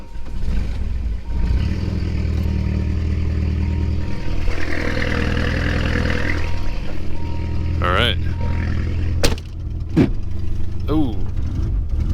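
A 1990 Plymouth Sundance with a blown, long-idle engine cranks and catches, then runs with a rough, steady drone close by, with a few sharp knocks and squeals near the end.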